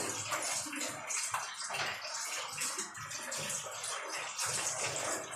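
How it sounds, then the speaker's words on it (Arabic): Water rushes and gurgles as a kitchen sink drains, a steady close splashing flow with uneven surges and no voices. "نفتح بقى قلبها، نحطها هنا كده ونصفي الحوض"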